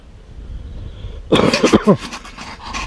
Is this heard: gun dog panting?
yes